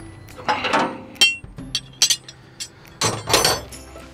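Steel wrench clanking against two nuts being jammed together on a bolt, while adjusting a feeder house drive belt: several sharp metallic clinks and taps at close range, spaced irregularly, with no talk.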